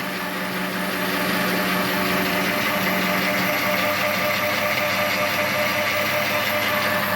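A lathe with a modernized carriage auto-feed runs steadily, giving a loud, continuous mechanical whir and hum with a fine rhythmic vibration and no pauses.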